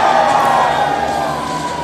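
Loud crowd cheering and whooping at a snowboard streetstyle competition, the 2021 Dew Tour at Copper, a dense roar of voices that stays strong and slowly eases.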